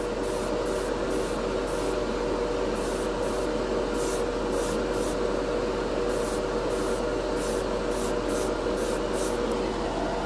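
Createx Wicked Colors chrome paint is sprayed onto a bare black plastic spoon in a series of short hissing bursts, some quick and some longer, close by over a steady background hum.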